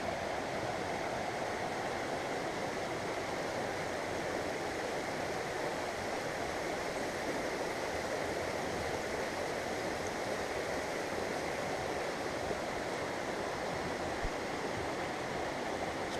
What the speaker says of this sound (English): It's pretty little creek.